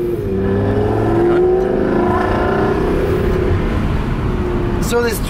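A sports car engine revving loudly and close up, its tone rising and shifting with sharp spikes near the end, while people talk over the engine noise.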